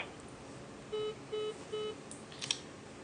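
Three short, evenly spaced telephone keypad tones, 1 then pound, fairly quiet, entered on an automated callback system, followed by a faint click.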